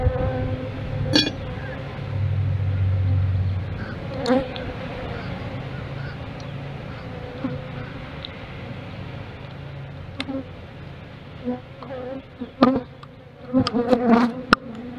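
Honey bees drone steadily around an opened ten-frame hive, a close swarming buzz throughout. Scattered clicks and handling knocks of hive parts rise toward the end, with some faint voice underneath.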